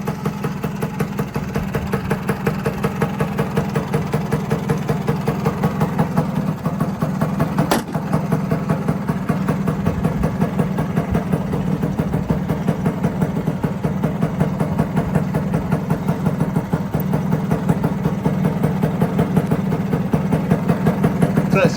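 A 1969 Lambretta GP 125 scooter's small engine runs continuously at a steady, close, loud idle with a fast buzzing pulse and no change in pace.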